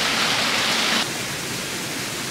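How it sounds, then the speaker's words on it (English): Water rushes steadily at the Alhambra palace in Granada, a loud broad hiss that is strong at first and then drops to a softer continuous flow partway through, with no talking. "So we're walking, and then we hear some water."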